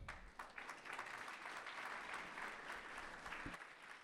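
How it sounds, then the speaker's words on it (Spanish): At an architecture BIM conference in Guanajuato, an audience applauds an architect. The applause is soft and distant, a dense, even patter that holds steady before thinning out near the end. "Demos un fuerte aplauso al arquitecto Rubén Rivas Maldonado"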